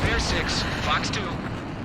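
A missile fires off in the Ace Combat flight game, a broad whooshing rush with bright bursts over a steady roar, blending with radio chatter from pilots.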